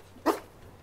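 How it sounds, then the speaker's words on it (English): A single short bark from a wolf pup in the game WolfQuest, one clear yelp rising briefly above a quiet background with no talk. "Bark."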